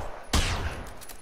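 A single sharp gunshot from Generation Zero cracks out loud and close, its broad burst trailing off into a short ringing decay over background game ambience.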